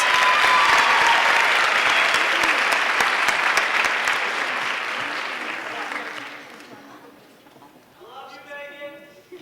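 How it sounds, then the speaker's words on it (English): A crowd at the Mr. Parkland 2008 show applauds four dance coaches in a loud, dense burst that gradually fades out, and then a voice begins speaking. "Let's give all 4 of these girls a big round of applause"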